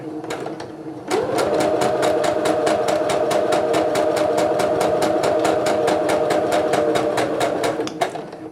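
Sewing machine stitching fabric with a short reverse stitch, a close, loud, steady rapid needle rattle that starts after a second, runs evenly for about seven seconds, then stops.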